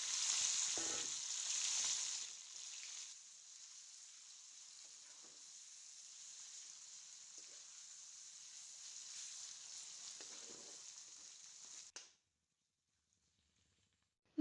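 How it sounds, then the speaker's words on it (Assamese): Marinated goat mutton sizzles in hot oil with a bay leaf in a wok. The frying is loudest for the first two seconds, then settles into a steady close hiss that stops abruptly near the end. "মেৰিনেট কৰি থোৱা মাংসখিনি দি ভালদৰে ভাজি লম।"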